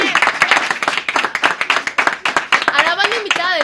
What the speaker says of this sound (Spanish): quiero que reciban con un aplauso muy fuerte